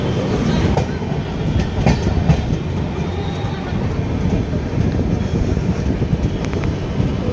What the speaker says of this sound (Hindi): ये स्पेशल कोई ट्रेन आ रही है पटना के लिए